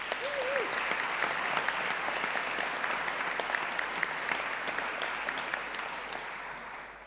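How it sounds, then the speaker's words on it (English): Graduates at a ceremony receive sustained applause from a large audience, a thick, even wash of clapping that holds steady and fades gently toward the end. "Let's give a round of applause for you."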